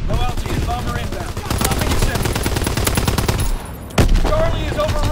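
Call of Duty: WWII anti-aircraft guns fire in loud, sustained rapid bursts, a dense rattling barrage that dips briefly before a sharp blast, with game voices faintly underneath.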